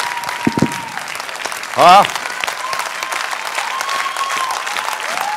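Audience and jury members applauding at a singing gala, a steady wash of clapping beneath a presenter's voice, with a short loud vocal outburst partway through and talk continuing over the applause.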